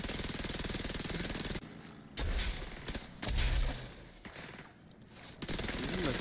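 Automatic weapons fire in The Division 2's Dark Zone, played with friends: a loud, rapid stream of shots that cuts off briefly, then returns as heavy thumping blasts and renewed bursts, with a voice faintly audible in the mix.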